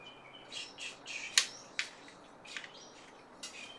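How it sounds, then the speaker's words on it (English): Loud birds chirp outdoors in a scattered series of sharp tweets and squawks, some close and piercing, with no talking. "These birds are loud."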